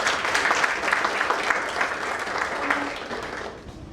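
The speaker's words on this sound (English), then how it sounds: "So let's clap for that." An audience at a leadership lab session claps steadily, a dense, even burst of applause that carries on for several seconds and begins to fade at the end.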